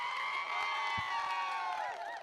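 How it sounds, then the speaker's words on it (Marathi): Spectators at a local tennis-ball cricket semi-final in Karad cheer and shout from a distance, a faint, mixed crowd roar with higher voices rising over it and little distinct clapping. "टाळ्यांचा गजर त्याच्यासाठी"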